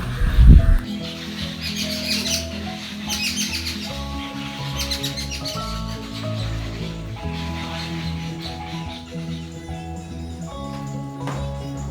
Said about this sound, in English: It was a pleasant morning with birds chirping sound.